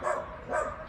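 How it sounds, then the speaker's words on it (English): Two bursts of barking from dogs outdoors in spring, one near the start and one just past the middle, fairly loud with a muffled, slightly distant quality and no talk. "You can hear the dogs barking"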